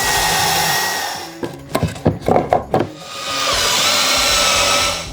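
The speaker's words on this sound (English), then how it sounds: "we're gonna go ahead and put a screw on the front face to make sure that that" A power driver sinks screws through the front face of barnwood accent wall planks: a rapid series of short whirring bursts in the middle, framed by a steady broadband hiss before and after.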